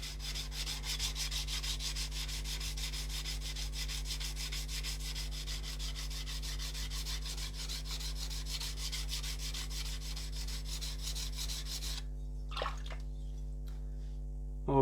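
A blade is rubbed steadily back and forth across coarse sharpening stones, giving a continuous gritty scraping under a constant low hum; it stops after about twelve seconds, leaving a few faint clicks and handling noises.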